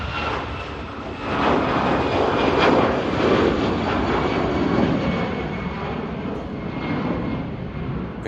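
An airliner departs from a Manchester Airport runway, a broad, steady engine roar that swells after the first second and holds loud and continuous, with no voices.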